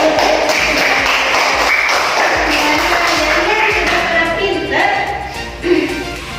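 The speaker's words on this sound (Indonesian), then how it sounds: "Tepuk tangan." A school class clapping their hands together in a classroom, a brisk rhythmic patter of many small hands close by, tapering off as a voice starts to speak.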